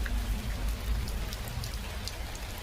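Steady rain falls on a surface, a dense continuous patter with occasional sharper drop hits and no speech.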